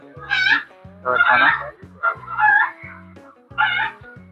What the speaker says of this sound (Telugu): ఇంట్లో పెంచుకున్న కోళ్ళు ఇవన్నీ.